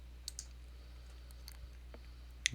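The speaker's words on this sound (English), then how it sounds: "So I'm clicking that one." Computer mouse clicks: a few faint, sharp isolated clicks spread across a quiet room hum.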